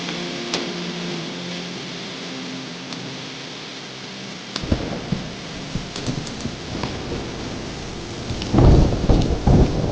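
Steady rain with rolling thunder, quiet at first and then heavier crashes and rumbles building toward the end, with no talking.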